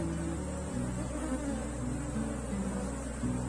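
Honeybees buzz at an opened beehive during a colony split, a dense steady drone of many insects close by, continuous and fairly loud with no talk.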